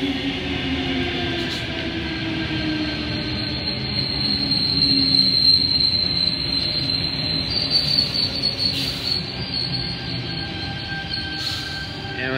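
A commuter train pulls into a Sydney suburban platform in the rain, its wheels squealing steadily and loudly at close range over a rumbling undercarriage for the whole stretch, with no voices.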